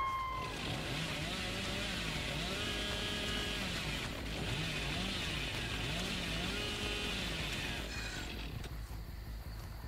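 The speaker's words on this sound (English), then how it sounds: "Quiet Chainsaw is very weird." Billy's chainsaw in the horror game Dead by Daylight revs with a steady, loud engine drone and cyclic pitch swells, continuous through the whole stretch with a brief shift near the end.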